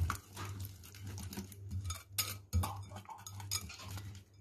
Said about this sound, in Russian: Перемешиваем все венчиком до однородности.